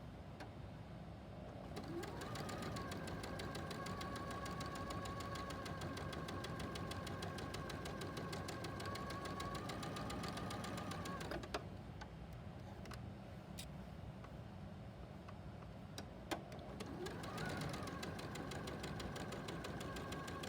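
A sewing machine stitches fabric pieces together at a short 1.8 stitch length, a steady continuous mechanical whir and rapid knock running nearly unbroken, close and even in level, with a brief pause and a few clicks toward the end.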